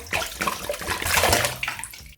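Water poured from a tap or jug into a bowl holding ice, a steady close splashing and gurgling stream that runs for about two seconds with no talk.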